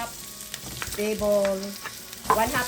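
Garlic and onions being stir-fried in a pan, with a close crackling sizzle and scraping stirs and clinks from a utensil, fairly quiet overall.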